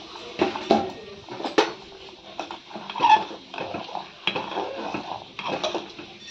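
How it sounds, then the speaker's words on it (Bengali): Metal spoon scraping and clinking against a pot while khichuri made with Gobindobhog rice is stirred, intermittent close knocks and scrapes in an uneven rhythm, no talking. "এরপর এগুলো ঢাকা দিয়ে সেদ্ধ করে নেব, আর মাঝে মাঝে নাড়তে হবে"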